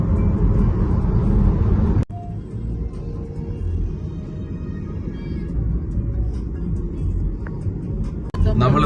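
A car travels through German villages, giving a steady low road rumble and engine hum inside the cabin, broken by two brief sharp knocks, with no voices.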